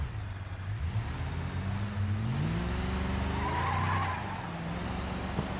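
A truck spins out in the BeamNG driving game, its engine droning loudly while the tires skid and squeal in long, continuous smears of noise, close and without speech.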